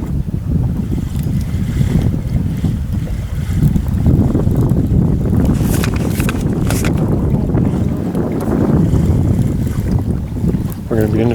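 A fishing boat trolls slowly across a lake at night, its motor a steady low rumble mixed with wind buffeting and water noise, with faint voices in the background.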